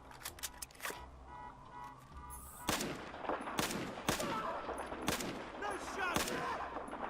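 Rapid gunfire bursts crack in the Battlefield 4 video game, opening with a quick volley of separate shots and then louder scattered reports over combat rumble and faint voices.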